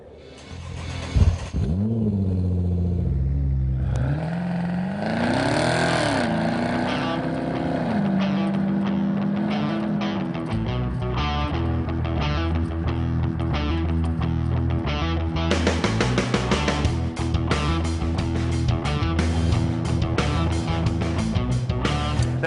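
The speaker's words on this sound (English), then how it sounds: "Let's drive the 2012 Camaro ZL1 and check the tech." A 2012 Chevrolet Camaro ZL1 on the move, its engine rumbling loud and steady throughout, with pitch swells as it accelerates and shifts, then a brighter, harsher roar late on.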